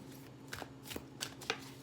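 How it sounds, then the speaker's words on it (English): A deck of tarot cards being shuffled by hand, a few quiet, short riffling bursts separated by brief pauses, close and alone without talk. "So I do another couple shuffles,"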